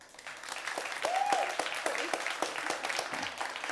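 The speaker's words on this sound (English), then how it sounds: "You can clap for yourself" Moderate applause from a small audience at a startup pitch event in London, with scattered distinct claps forming a steady patter and a faint voice briefly audible partway through.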